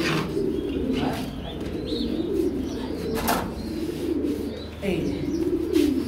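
Racing pigeons on a breeding farm give repeated low, rolling coos that overlap one another in a steady chorus, close by and fairly loud.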